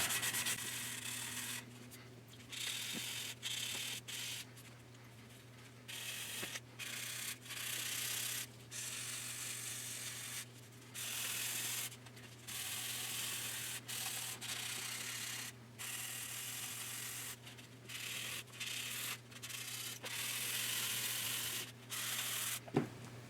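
A sanding stick rubs back and forth on the putty-filled plastic hull of a 1/350 scale Hobby Boss Oscar SSGN submarine model, in close, repeated short strokes separated by brief pauses, with no talking.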